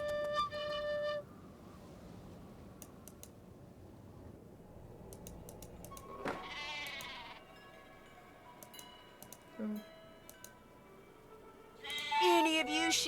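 Sheep bleat in a Nancy Drew video game, The Haunting of Castle Malloy, with a couple of short, nasal game-sound bleats rising over quiet background clicks and keyboard taps.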